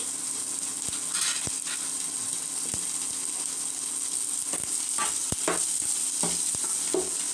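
Vegetables for pasta masala upma frying and being stirred in a pan, with a constant low sizzle and scattered sharp clicks and scrapes of the spoon, close but fairly quiet, no talking.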